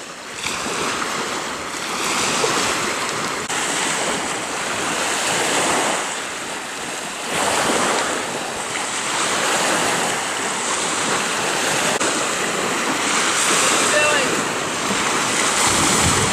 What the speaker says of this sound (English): This is Sandbar Beach. It must be 20 miles from the locks, and it's in Lake Superior.